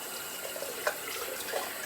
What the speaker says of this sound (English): quick rinse